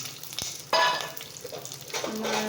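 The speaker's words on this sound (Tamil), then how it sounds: "அதே எண்ணெயில் அதுக்கப்புறம் பூண்டு போட்டுக்கிறேன்" Garlic sizzles in hot oil in a pan, with a few spoon or ladle knocks and stirring scrapes over a continuous close frying crackle.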